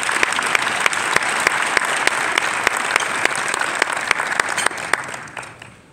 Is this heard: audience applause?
yes